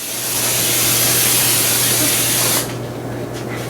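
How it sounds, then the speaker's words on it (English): A steady hiss of cooking spray from an aerosol can runs for about two and a half seconds, close up, then stops abruptly, leaving quiet room noise. "Go ahead and spray your sheet pan nice and good"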